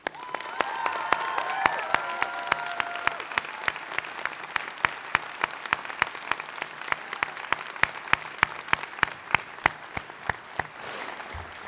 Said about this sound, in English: would you join me, please, in giving a round of grateful applause to your faculty